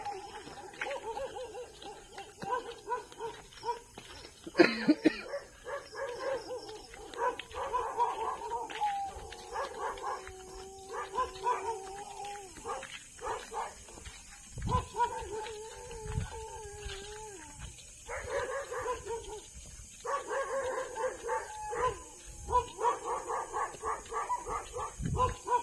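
Dogs at night in a Philippine neighbourhood bark, howl and whimper in scattered bursts over about half a minute, some near and some farther off, with faint talk in the background.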